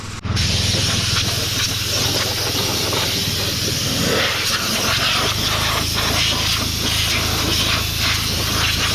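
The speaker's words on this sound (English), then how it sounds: "But air compressor just shut off, means I can give it a good blow down." Steady compressed-air blast blows down a Claas 695 forage harvester around the kernel processor, a loud continuous hiss that runs close and unbroken for the whole stretch.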